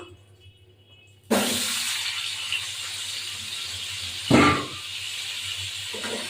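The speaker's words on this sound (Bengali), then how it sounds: "আলুগুলো ভাজা হোক, তারপর আসছি।" Potatoes drop into hot oil in a pan during home cooking, setting off a sudden loud broadband sizzle that holds steady, with a brief louder burst of spitting and stirring near the end.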